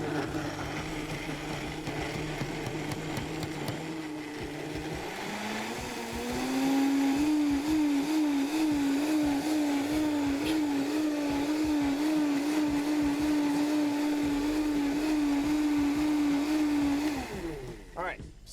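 A blender purees fermented hot sauce, starting with a lower churning and then rising into a loud, steady whir with a slight wobble, running close for most of the stretch before cutting off, with voices underneath.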